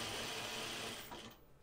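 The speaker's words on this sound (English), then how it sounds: "I feel like I'm sewing. These are so thin." A flatbed sewing machine stitching thin napkin fabric, a close, steady whirring buzz that runs briefly and then slows and stops.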